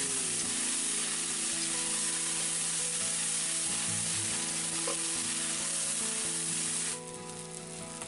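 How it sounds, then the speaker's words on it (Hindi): Ground mustard fries in a pan for fish masala, giving a steady, close, loud sizzling hiss that runs unbroken throughout, thinning slightly near the end, with no voices. "इसे हल्का लाल होने तक हम भूनेंगे"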